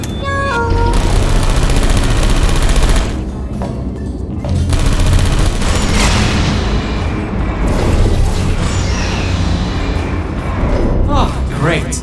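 Rapid automated turret gunfire in the video game Portal Stories: Mel, loud dense bursts of shots and booms layered over game music and effects, with a voice talking through it.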